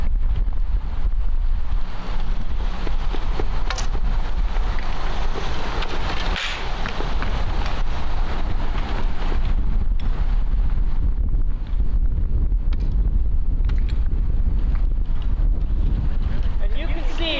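Strong headwind at an outdoor archery range, roaring and buffeting the microphone as a loud, continuous rush of wind that does not let up.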